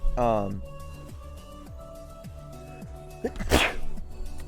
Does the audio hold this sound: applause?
no